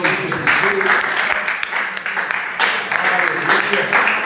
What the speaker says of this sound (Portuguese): Levante, aplaudindo ao Senhor no nome de Jesus.